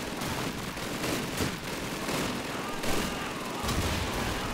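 Gunfire in the Call of Duty 2 video game during a Stalingrad battle: rapid rifle shots and bursts crack over a continuous din of distant combat, with loud reports scattered throughout.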